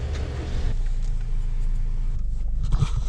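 A car driving on the road, with a steady, close low engine and road rumble running throughout and a few soft bumps near the end.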